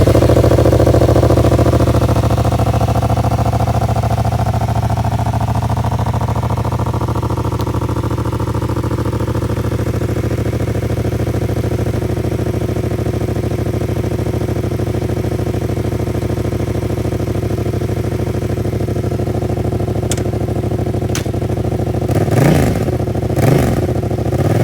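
A Yamaha XSR700 motorcycle engine with holes drilled into its stock exhaust runs at a steady, loud, rumbling idle for the whole stretch, with a few sharp mechanical clatters and a slight rev near the end.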